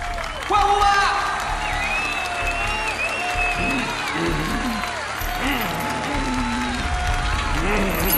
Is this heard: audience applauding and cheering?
yes